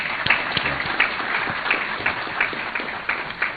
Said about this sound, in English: May we clap for the President?